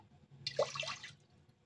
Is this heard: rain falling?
no